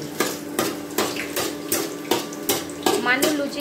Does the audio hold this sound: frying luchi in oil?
yes